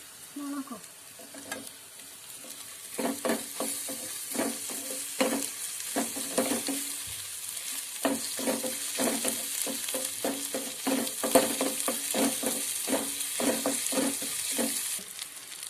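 Crushed garlic, ginger and chili sautéing in a pan for a dried prawn pickle, a continuous sizzle broken by repeated scraping stirs of a spoon against the pan, close and fairly loud with no talking.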